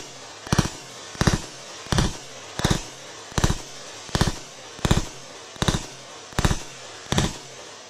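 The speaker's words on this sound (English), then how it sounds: "Overall, it's a smooth shooting rifle." Eleven sharp rifle shots from a Stag 15 3 Gun Elite with a muzzle device, fired at a steady pace of about one shot every 0.7 seconds, loud and close, with no talking.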